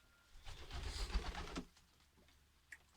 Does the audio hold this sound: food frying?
no